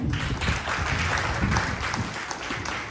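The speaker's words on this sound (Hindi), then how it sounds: "तो एक बार जोरदार के लिए तालियां।" Loud, steady applause from an audience at the 8th Kala Karyakaram cultural programme of the Arpita Global Foundation, dense clapping filling the whole stretch without letting up.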